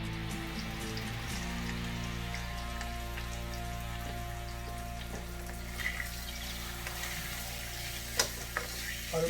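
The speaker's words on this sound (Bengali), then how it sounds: "আলুটা কড়াইতে দিয়ে দিচ্ছি, এখন ফ্রাই করা হচ্ছে।" Potato pieces frying in hot oil in a kadai, a steady broad sizzle and crackle running throughout with a few sharper pops near the end, under a low constant hum, no talking.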